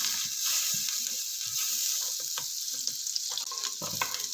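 Minced garlic sizzling in butter in a pan for egg fried rice, a steady bright crackle with occasional stirring scrapes and clicks, close and continuous with no talking.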